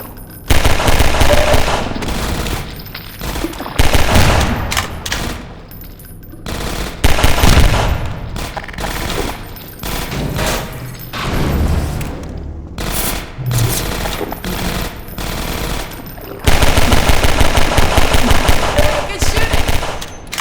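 Rapid automatic gunfire from the Half-Life 2 Episode 1 video game rattles out in loud, repeated bursts with short gaps, continuing throughout.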